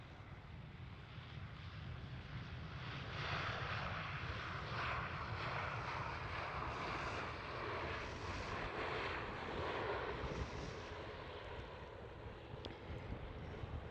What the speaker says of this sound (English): KLM Airbus A321 Neo.